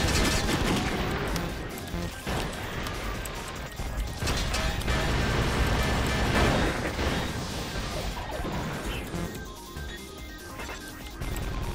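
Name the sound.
missile firing in Baldr Force video game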